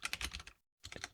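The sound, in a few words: typing on a computer keyboard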